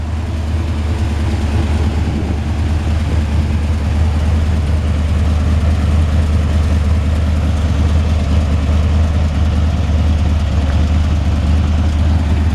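A 1955 Ford F-100 pickup truck engine runs steadily at idle, a low, constant rumble that stays even throughout with no voices.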